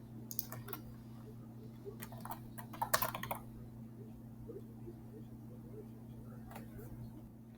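Quiet clicking of a computer keyboard comes in short bursts of keystrokes over a steady low electrical hum, with faint soft background sounds.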